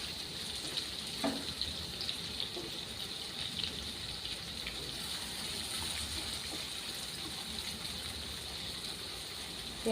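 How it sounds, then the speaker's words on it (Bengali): Chopped onions fry in hot oil for a chicken dish, giving a steady, even sizzle with a light watery hiss and a few faint stirring clicks throughout. No one speaks. "গোল্ডেন কালার করে ফ্রাই করে নেব"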